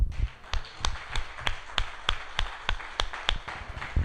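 A church congregation gives a round of applause to the Lord, heard as about a dozen sharp, evenly spaced claps in a steady rhythm, fairly close and clear with little else around them.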